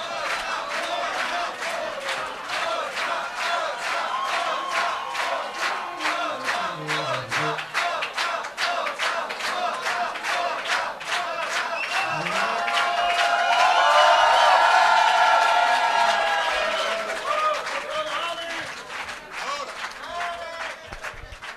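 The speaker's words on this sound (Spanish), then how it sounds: "Qué lindo es escuchar esos aplausos de ustedes." A concert crowd in Paris applauds for a long stretch, dense clapping mixed with cheers and whistles that swell to a loud peak midway and then ease off slightly.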